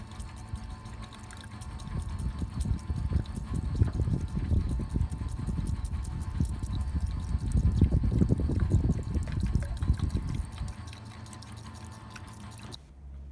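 Petrol draining out of a Ford Fiesta MK3 fuel tank into a container, a close, continuous gurgling pour with splashy trickling that swells and fades, then drops away near the end.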